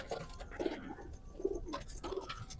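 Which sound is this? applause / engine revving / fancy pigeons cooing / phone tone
fancy pigeons cooing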